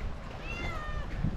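Cat meowing in Phuket, Thailand, one short rising and falling meow close by, with outdoor background noise.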